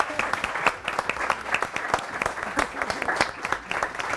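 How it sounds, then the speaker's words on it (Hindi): A TV morning-show studio audience breaks into sustained applause, dense, sharp clapping at an even level that runs the full length with no talk over it. "दोबारा तालियां प्लीज"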